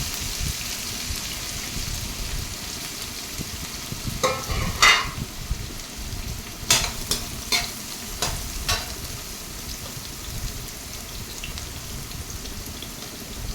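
Cumin seeds crackling in hot oil for a dhaba-style chicken dish, a low continuous sizzle with a burst of sharp pops and stirring clatter in the middle, and no voices.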